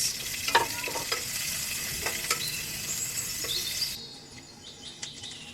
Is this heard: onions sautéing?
yes